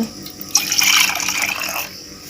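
Water is poured as an offering during a Kumar Purnima puja, a short splashing pour lasting just over a second against a quiet background.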